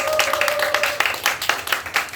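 A church youth-service congregation claps, a short burst of scattered, uneven hand claps that grows choppier over about two seconds, moderately near.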